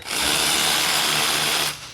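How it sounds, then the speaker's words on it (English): A power drill whirs steadily and loudly for almost two seconds, then spins down abruptly, removing a wiper arm nut on a 2018 Ford Edge. "You obviously don't need a power tool, but this will make life a little easier."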